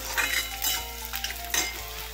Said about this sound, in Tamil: இப்போ இது கொஞ்சம் ஒரு கண்ணாடி பதம் வர அளவுக்கு இது கொஞ்சம் வதங்கட்டும்